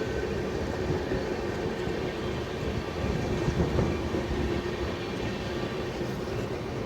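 The 12652 Tamil Nadu Sampark Kranti superfast express runs near Rani Kamalapati station in Bhopal, heard from on board as a steady rushing rumble with faint rail clatter.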